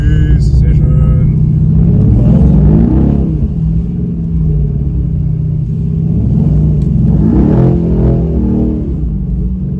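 A Mercedes-AMG E63 S or Nissan GT-R revs hard on snow, the engine rising in surging bursts with a low rumble, close and loud.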